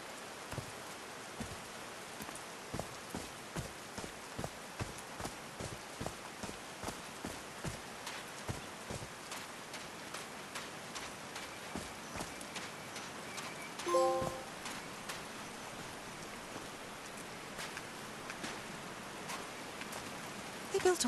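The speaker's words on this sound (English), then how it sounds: "These drops of rain are so refreshing." Light rain patters steadily in the seaside world of the video game Call of the Sea, a soft background of drops beneath regular, evenly spaced footsteps, with a brief louder clatter midway.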